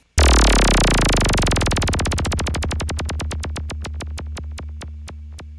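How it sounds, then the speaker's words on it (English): A synthesized effect sweep from the Meld synthesizer bursts in loud, then descends as a rapid train of pulses that slows into steadily spaced clicks over a sustained low tone, fading gradually with no voices. "our final effect sweep sounds like this"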